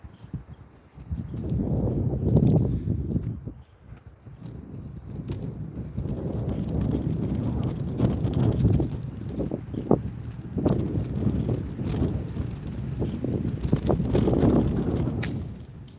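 Wind gusts across the microphone at an outdoor slingshot range, producing a roaring buffeting noise in long surges with a few short lulls and faint clicks.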